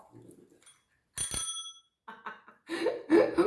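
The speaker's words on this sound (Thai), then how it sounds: "กระดิ่งมาอีกรอบ" A bell rings in a short, bright burst, followed by a few chirpy bird-like or whimpering squeaks and a brief voice, all heard close and moderately loud.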